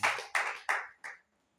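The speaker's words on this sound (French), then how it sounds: "Applaudissez pour le Seigneur" Four quick sharp claps in an even rhythm, close and fairly loud, then silence; a congregation applauding during a French-language church service.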